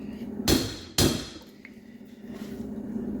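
A seal driver taps a seal into the extension housing of a 1973 Dart's Torqueflite transmission, giving two sharp, loud metallic knocks about half a second apart, followed by a quieter lingering ring.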